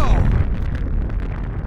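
An atomic bomb test explosion on a Pacific atoll: a loud, continuous booming rumble that fills the whole moment with a heavy low roar and no voices over it.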